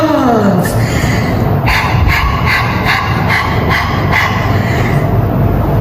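A dog barks in a quick series of sharp yaps over a steady, loud rumbling background.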